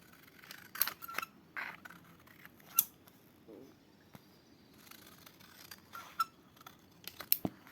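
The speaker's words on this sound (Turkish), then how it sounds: "Normalde kumaş makası ama Sesi falan hoşuma gidiyor." Several sharp snips of fabric scissors cutting coated paper, crisp and close, spaced irregularly with quiet pauses between cuts.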